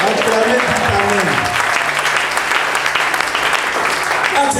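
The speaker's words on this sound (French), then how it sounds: "somebody clap your hands and say amen" A church congregation at a Sunday service in Lomé, Togo, claps hands together in loud, dense, sustained applause filling the hall, with voices faintly mixed in.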